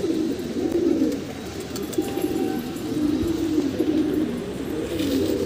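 Soft, steady cooing from a round-headed pigeon with a black beak and white eyes, repeated in low rolling phrases nearby over a quiet background.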